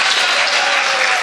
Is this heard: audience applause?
yes